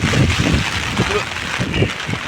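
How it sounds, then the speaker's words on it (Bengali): Strong wind and heavy rain lash down during Cyclone Remal, a constant loud broadband roar with gusty buffeting on the microphone, while a person talks throughout. "হাওয়া প্রচণ্ড পরিমাণে দিচ্ছে"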